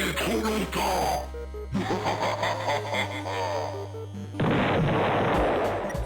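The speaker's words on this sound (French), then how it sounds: "Vas-y, l'explosion, elle m'a fait accélérer pour rien." Booming blasts and crackling bursts from an explosion in the video game Deltarune, Chapter 4, loud and dense, layered over game music with a sudden harsher burst near the end.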